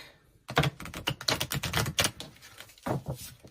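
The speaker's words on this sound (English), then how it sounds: "let me shuffle these real quick" Rapid crisp clicks and flicks of tarot cards being shuffled, a busy burst of close taps, a brief pause, then a short second flurry.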